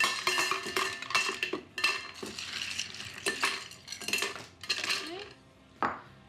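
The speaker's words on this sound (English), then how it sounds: "We're gonna add some ice to the shaker." Ice cubes dropped into a cocktail shaker, clattering and clinking against the metal in several bright bursts, then a final rattle, close by.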